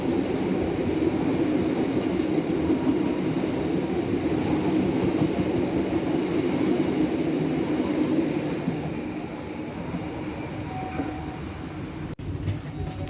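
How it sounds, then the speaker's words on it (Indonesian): Argo Muria passenger train passing through Semarang Poncol station at night, a continuous loud rumble of rolling wheels and carriages that eases slightly toward the end, with a sharp click near the close. "segera melintas di jalan 4 stasiun Semarang Poncol, KA Argo Muria"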